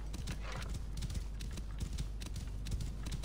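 Galloping horse hoofbeats in Assassin's Creed Origins, a fast, steady clip-clop running continuously at close range across the whole stretch, with faint background game ambience and no talk.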